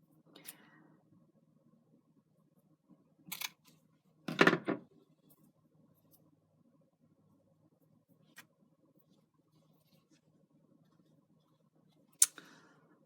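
A few sharp scissor snips cut a strip of lace in half during a no-sew hexagon needle book craft, with one louder crunchy cut standing out among faint clicks in a quiet room.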